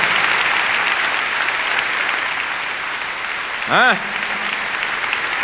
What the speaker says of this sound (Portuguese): Vocês podem dar um aplauso aí ao Senhor?